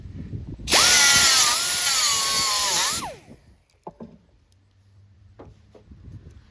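A power drill drilling out rivets on a fiberglass hood scoop whines loudly for a couple of seconds, then spins down, followed by a few faint clanks and knocks.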